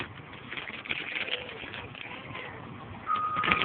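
Pigeons coo outdoors where birds and squirrels are being fed, soft repeated calls heard at moderate distance over light background rumble, growing a little louder toward the end.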